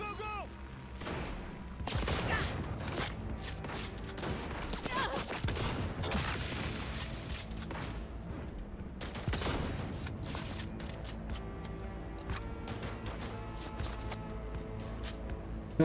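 A powerful cannon-type gun fires repeatedly in the video game Cyberpunk 2077, heavy booming blasts in bursts over mechanical game noise, with a voice talking at times.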